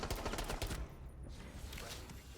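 Loud, dense burst of rapid mechanical clacks and metallic rattles from a weapon reload in a video game with the Paragon Elite skin, busiest in the first second and then a sustained noisy tail, close and without talk.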